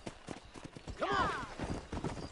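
A horse clip-clopping along in the Red Dead Redemption game, quick rhythmic hoof beats at close range with a brief whinny partway through, set against quiet background ambience.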